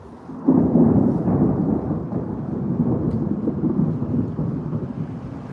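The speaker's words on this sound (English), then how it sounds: "Let's see if we get any thunder." A low rumble of thunder rolls in suddenly and lingers for several seconds, distant and heavy, with no voices.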